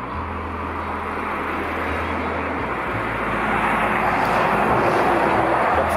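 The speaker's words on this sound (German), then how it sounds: "Ich weiß nicht, ob man mich in dem Verkehr hier überhaupt hört." Steady road traffic noise drones near the Rhine bridge at the mouth of the Lippe, a continuous, fairly loud roar of passing vehicles that builds slightly toward the end.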